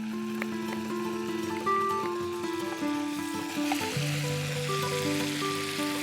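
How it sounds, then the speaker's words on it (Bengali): Marinated salmon fish sizzling in melted butter in a frying pan, a steady, close, continuous fry crackle with faint stirring, over light background music and no talking. "বাটারটা ব্লেন্ড হয়ে গেলে আমি মেরিনেট করা স্যালমন ফিশটা দিয়ে দিচ্ছি।"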